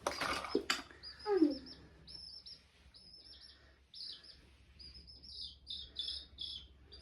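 Chick chirping during toy truck play in a playroom, a run of short high chirps and tweets repeating through the clip, fairly close and moderately loud, with a few low thumps near the start.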